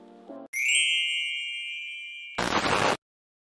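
A notification bell sound effect: a short bright tone, then a sustained clear ding ringing for about two seconds, ending in a brief noisy jingling burst before cutting to silence.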